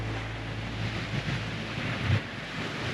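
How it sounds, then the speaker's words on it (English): Wind buffets the microphone in a steady low rumble with gusts swelling and easing, plus a brief heavier thump, outdoors on a lake beach at Wakami Lake Provincial Park beside rough water, with no talking. "It's pretty windy right now and the water's pretty rough"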